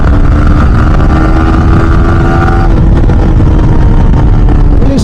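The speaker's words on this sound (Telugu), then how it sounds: "Bike sound is something very reasonable man. చాలా అంటే చాలా వినాలనిపిస్తుంది బైక్ సౌండ్ని" A Yamaha R15 motorcycle ridden fast gives a loud, sustained engine drone with a shifting tone, heavily buffeted by rushing wind noise throughout.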